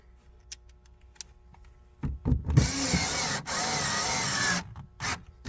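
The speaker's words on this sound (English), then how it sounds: "Use the drill." A power drill whirs in short bursts and then one sustained run, close by, with light tapping and handling noises between, while fitting aftermarket LED tail lights on a 2014 Chevrolet Cruze.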